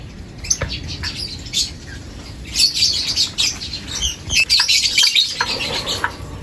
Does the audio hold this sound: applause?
no